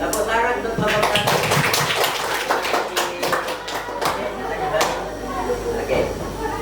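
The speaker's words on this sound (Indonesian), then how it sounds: "tepuk tangan untuk kelompok 1" A classroom group of students claps in applause for a presenting student group, a dense burst of many hands at close range, with talking mixed in.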